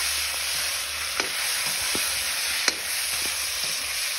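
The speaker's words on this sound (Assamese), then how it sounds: "কেৰাহীত মাছটো দি পেলাই পটাপট লৰাই দিলে" Fish frying in hot oil in a wok, a continuous loud sizzle with a few sharp scrapes and clinks of a spatula stirring the pieces, close up with no talking.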